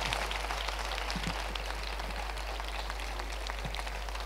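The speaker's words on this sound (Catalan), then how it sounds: "podeu aplaudir si voleu" A crowd at a town festival opening speech in Tona applauds, a steady, fairly faint patter of many hands clapping from a distance with no voices over it.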